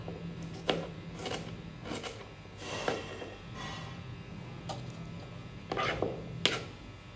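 Green chillies sliced lengthwise with a knife on a kitchen board, giving several soft, sharp cutting taps spaced irregularly over steady low background hum.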